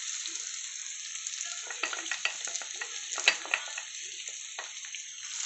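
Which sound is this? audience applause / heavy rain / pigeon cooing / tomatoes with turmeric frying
tomatoes with turmeric frying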